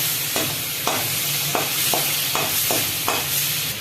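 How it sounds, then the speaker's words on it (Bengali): Shrimp fry in a hot pan with a steady, loud sizzle, while a utensil stirs and scrapes in repeated bursts about every half second. No voices are present. "চিংড়ি মাছ কটা একটু লাল লাল করে ভেজে নেবো।"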